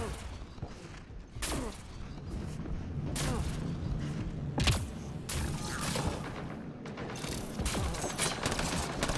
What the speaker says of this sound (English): It's a rifle called R4.